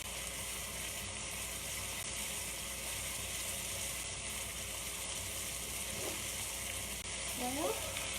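Chicken pieces sear in butter in a hot pan for a steady, even sizzle that carries on throughout. Near the end comes a faint, brief voice-like sound.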